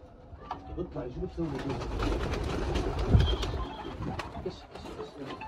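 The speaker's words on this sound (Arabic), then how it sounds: "شوف حمام بتطير" Pigeons coo softly amid a steady low background hum, while voices talk nearby.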